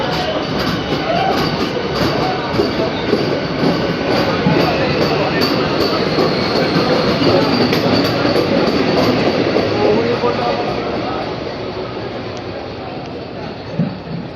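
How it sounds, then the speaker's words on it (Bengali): A Sealdah–Ranaghat AC local train departs, its loud continuous rolling rumble and wheel clatter filling the platform and easing off slightly toward the end. "এবার ট্রেনটা ছেড়ে দিচ্ছে রানাঘাটের উদ্দেশ্যে"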